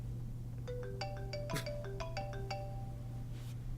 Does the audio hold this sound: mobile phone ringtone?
yes